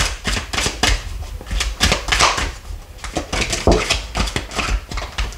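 Tarot cards are drawn and laid out on a table, making quick, close taps, flicks and soft slaps in an uneven rapid rhythm that continues throughout.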